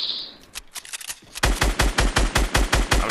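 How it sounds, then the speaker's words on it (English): Rapid automatic gunfire in a squad-based shooter video game, a sparse burst at first and then a steady fast run of loud, close shots. "I'm shooting down."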